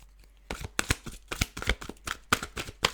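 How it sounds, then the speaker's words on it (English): Cards are riffled and shuffled in a quick series of crisp, papery bursts, close and fairly quiet, with brief pauses between them. "let's start with the shuffling."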